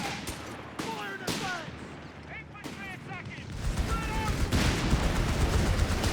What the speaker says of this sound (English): Guns blazing.